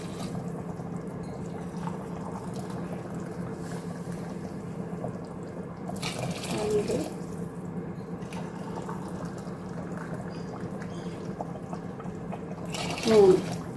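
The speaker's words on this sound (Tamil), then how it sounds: "சுடு தண்ணி ஊற்றினோன்னா போட்ட உடனே கொதிக்குது பாருங்கள்" Water boils in a cooking pot with a steady low rumble and hiss, a faint splash near the end.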